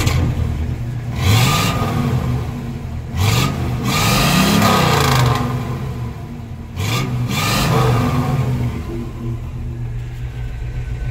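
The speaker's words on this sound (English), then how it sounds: "Starts up pretty good, runs good. Got the Black Widow exhaust Venom 250s." A twin-turbo 12-valve Cummins diesel in a 1966 truck with Black Widow Venom 250 exhaust, running and revving in three swelling bursts that rise and fall over a rumbling idle, close and loud.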